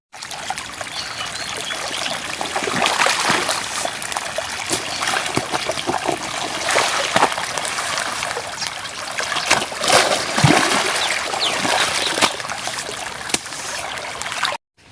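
Irrigation water flows steadily into a field channel on a farm, a continuous splashing trickle with small gurgles and splatters, close and fairly loud throughout with no talking.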